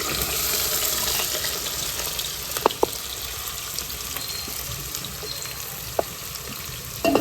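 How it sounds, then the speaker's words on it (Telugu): Onions frying in hot oil for chicken curry, a steady broad sizzle with a few faint clinks of utensils, close and continuous with no voices. "నూనె మరిగిపోయిందండి, ఉల్లిపాయలు వేసేస్తున్నాను."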